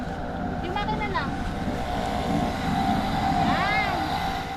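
Engine of an electric power sprayer runs steadily outdoors while spraying weed killer in Bataan, a continuous mid-loud droning hum with some wind buffeting, and people talk over it.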